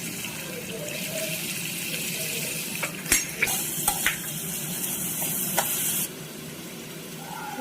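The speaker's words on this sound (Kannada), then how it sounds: "ಆಯಿಲ್ ಬಿಸಿ ಆದಮೇಲೆ ತುಂಬ ಚಿಕ್ಕದಾಗಿ ಕಟ್ ಮಾಡಿರೋಂಥ ಆನಿಯನ್ ಹಾಕ್ಕೊಳ್ಳೋಣ" Finely chopped onions sizzle in hot oil in a pan while mushroom masala gravy is cooked, a steady close frying hiss with a few sharp clinks of a spoon or utensil partway through, no talking.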